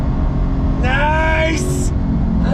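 A 2021 Lingenfelter C8 Corvette engine pulls at full throttle: a continuous loud roar with a rising, sweeping whine and a brief high-pitched burst, heard from inside the car.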